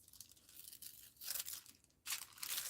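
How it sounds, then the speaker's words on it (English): Wax paper scraped off a carved wax seal stamp, heard as dry crinkly tearing and scratching bursts alone, with louder strokes partway through and again near the end. "I might have to scrape off some of the wax paper."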